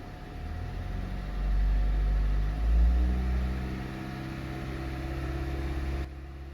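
A car engine, steady and close, holds at a cruising RPM as a low drone with a slight swell in the middle before settling.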